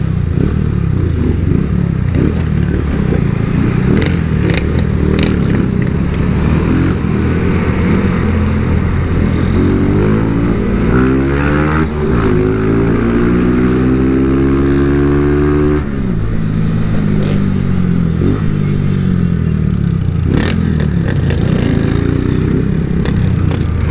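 Honda Titan 160 motorcycle riding through busy city traffic, a steady loud engine drone with rising revs, passing vehicles and clatter around it, and no talk.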